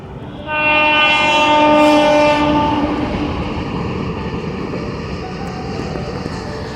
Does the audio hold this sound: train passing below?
yes